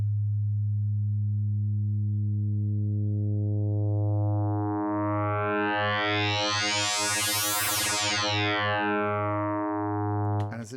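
FM Tone synth drone with a slow attack that swells into a dense, rising cluster of harmonics, then a long decay back down, sustained and loud throughout without any voice.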